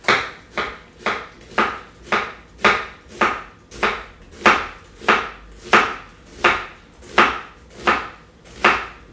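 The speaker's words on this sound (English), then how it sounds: "and just chop like this." A knife chops fresh lemongrass stalks on a cutting board in a steady, even rhythm, about fifteen crisp close strokes with nothing else heard.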